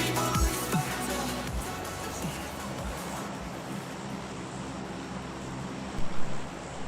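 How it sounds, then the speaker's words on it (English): Airplane engine drone as the transport plane takes off in PUBG Mobile, a steady dense roar that holds for several seconds with a brief swell near the end. "It looks like the plane has taken off, guys."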